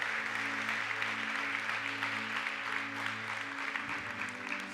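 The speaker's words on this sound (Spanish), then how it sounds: "Dale un fuerte aplauso al Señor." Church congregation giving a big round of applause to the Lord, a dense steady clapping that fills the room at fairly even loudness, with a sustained low musical tone underneath.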